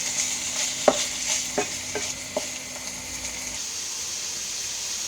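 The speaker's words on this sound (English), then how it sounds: "the chicken's been frying here for a couple minutes" Chicken pieces fry in olive oil in a pan, a steady low sizzle broken by several sharp scrapes and clinks of stirring, close up with no talking.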